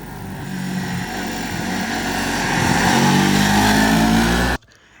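A 2023 Kawasaki Ninja 400 motorcycle revs up, its exhaust growl rising in pitch and loudness as the engine climbs through the range, then cuts off abruptly near the end.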